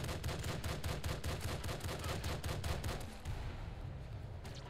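A grenade revolver fires in the Nuclear Throne video game, a rapid string of sharp, evenly spaced explosive shots bursting for about three seconds before thinning out, with no talk over it.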